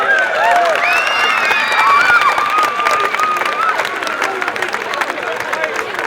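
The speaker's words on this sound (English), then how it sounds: "I'd like everybody to put their hands together as a round of applause for two good teams." A crowd claps and cheers for the two teams at the 2009 Intermediate Championship Final between Cootehill and Lavey. The applause is steady and dense, with whistles over it, and keeps going for the whole stretch.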